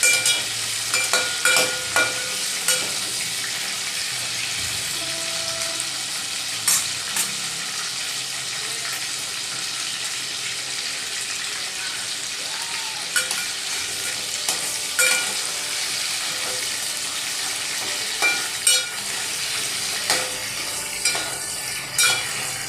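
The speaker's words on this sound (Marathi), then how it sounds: "तेलात खेकडी छान परतवून घ्यायचं" Crab sizzles steadily as it fries in hot oil for a crab curry, a dense continuous crackle with intermittent scrapes and clinks of a spoon stirring it in the pan.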